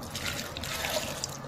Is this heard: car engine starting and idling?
no